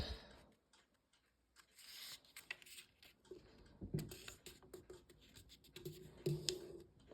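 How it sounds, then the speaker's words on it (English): A sheet of origami paper being folded in half for a paper canoe, soft crinkling, rubbing and creasing sounds, close and quiet, with brief pauses. "we're gonna fold it in half"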